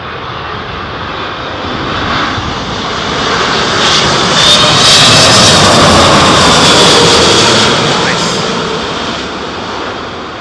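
A Singapore Airlines jet airliner at London Heathrow Airport during Storm Isha: a loud engine roar swells as it passes close by, holds for several seconds, then slowly fades.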